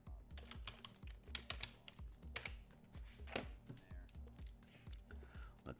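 Close, rapid typing on a computer keyboard, with dense clicking keystrokes in quick bursts and faint talk underneath.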